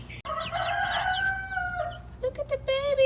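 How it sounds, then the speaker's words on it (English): Young chickens and small Black Copper Marans roosters in a brooder give a rooster's crow and clucks at feeding time, fairly quiet and close over a low hum. "There's a couple little BCM roosters in there."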